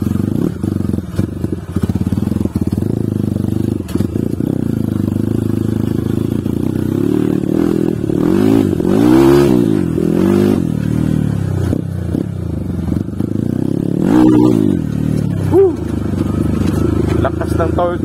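A Kawasaki KLX 140RF dirt bike bored up to 170cc with a 63mm bore on stock stroke and valves pulls through second gear, its engine note rising and falling in several revving sweeps close by while a rider talks over it.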